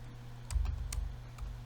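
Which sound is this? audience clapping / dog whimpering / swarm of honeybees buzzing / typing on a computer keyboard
typing on a computer keyboard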